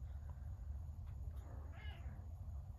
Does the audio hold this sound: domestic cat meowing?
yes